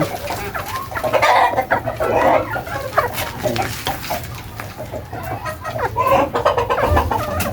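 Pet chickens cluck loudly and repeatedly nearby, a busy overlapping flock chorus with a faint crow and light talking mixed in.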